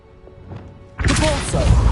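Accio spell cast in Hogwarts Legacy, a sudden broad magical whoosh and impact that bursts in midway after a quiet stretch and stays loud to the end.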